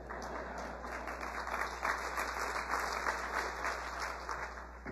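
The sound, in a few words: audience applause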